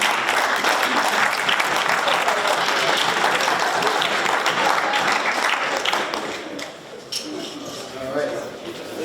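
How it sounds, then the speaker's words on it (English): School assembly audience at McQuaid Jesuit giving a round of applause after a trivia segment, a full roomy burst of many hands that stays strong, then thins and trails off near the end. "Let's give him a round of applause."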